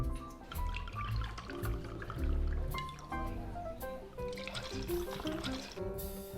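Water poured into a glass at a restaurant table, a short run of trickling and dripping splashes heard over background music, fairly quiet and close.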